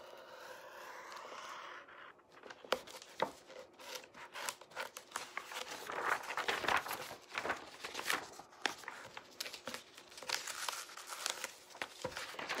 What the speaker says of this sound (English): take your music out of the book. And for me, the easiest thing to do is just to use my X-Acto knife